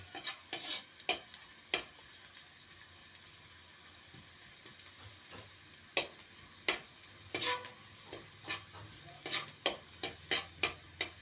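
Meat sautéing with browned garlic in a pan for adobo, a low, quiet sizzle under a series of sharp, irregular scraping and clacking stirs that grow denser toward the end, with no one talking.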